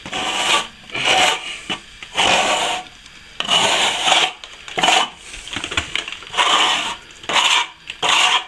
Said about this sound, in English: Scrape the edge back level with the existing. Scrapes back nicely this sand and plaster.